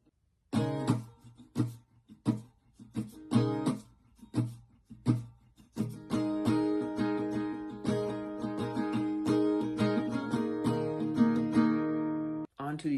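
Acoustic guitar playing the first half of a pre-chorus, opening with choppy, muted rhythmic strums, then shifting to fuller ringing strums on sus2 and sus4 chords that sustain to a short stop; close and solo.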